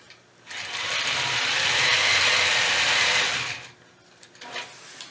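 A sewing machine machine-quilts a square quilt block, running in one steady, loud continuous burst for about three seconds and then stopping, with a few soft handling noises afterwards.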